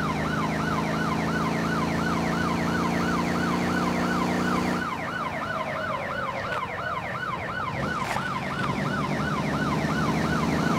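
Wailing emergency vehicle siren in the driving game Motor Town: Behind The Wheel, cycling rapidly and loud over steady engine noise, with a tire screech and traffic sounds in the second half.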